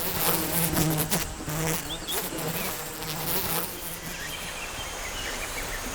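Honeybees swarming around a hive set near a cliff in the DMZ, a dense, continuous buzz close by with individual bees droning past, loud at first and then settling to a steady hum.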